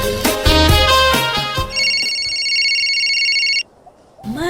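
A mobile phone rings on a table, a loud repeating electronic ringtone sounding clearly after a few seconds of music, then cutting off abruptly into near silence.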